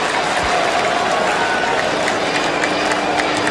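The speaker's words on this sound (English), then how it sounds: "Crowd loving it." Crowd at a cricket stadium applauding steadily during a Test match, a dense continuous clatter of clapping with some cheering, moderately loud throughout.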